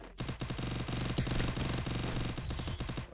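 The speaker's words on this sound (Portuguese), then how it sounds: "Dá um tiro mesmo. Vai salvar." Rapid automatic gunfire in the battle-royale game Free Fire, a dense run of sharp, evenly spaced shots with brief gaps, fairly quiet in the mix and without talk.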